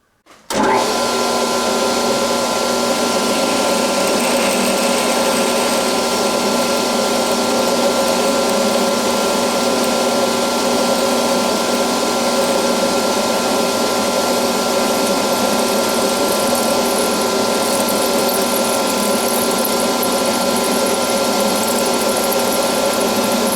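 A steady, loud mechanical whine from a drill boring oiled metal to make centre drills runs continuously, a dense grinding hum with no pauses or voices.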